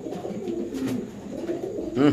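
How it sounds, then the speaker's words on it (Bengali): A pigeon coos softly a few times at close range, with faint background noise around the calls. "এই যে আমরা একটা কবুতর সাইডে ডাকটা দেখাচ্ছি আপনাদের"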